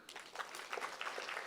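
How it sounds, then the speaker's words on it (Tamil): Audience clapping at a Tamil public speech by Bharathi Krishnakumar: a brief burst of faint, distant, crackling applause with no voices over it. "கைதட்டுங்க."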